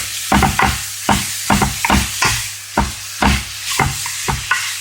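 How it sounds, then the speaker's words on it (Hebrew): Ground beef frying in a pan for stuffed mushrooms, with a steady sizzle broken by repeated scraping and stirring strokes of a utensil, close and fairly loud, no voices. "ואני ממשיכה לטגן עד שהבשר מאפיר"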